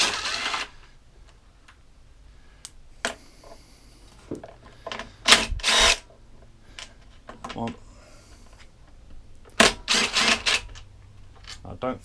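Clicks and ratcheting clatters from a socket set being used on a Mountfield SP536ES lawn mower come in bursts, close and sharp, with pauses in between.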